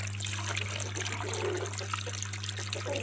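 Tap water runs steadily into a large pot holding about seven and a half litres of rooster pieces for aspic, a soft continuous trickle over a constant low hum, no talking.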